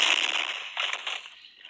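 Explosion ability effect in a Roblox video game, a bright crackling burst that fades over under two seconds, heard alone.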